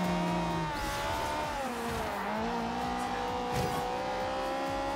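A Ferrari in Forza Horizon 2 drives and drifts, its engine tone sliding up and down through gear changes with steady roar and tire noise, loud and continuous.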